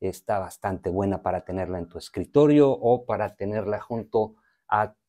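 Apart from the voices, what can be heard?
No everyday noises stand out.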